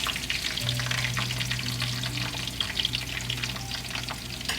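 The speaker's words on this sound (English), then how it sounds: "And we're going to fry this till it's translucent and the onions turn really soft." Onions sizzle steadily in a hot pan while being stirred, with the spoon scraping through them, as part of a spinach chicken dish; the frying is close and continuous with no voices.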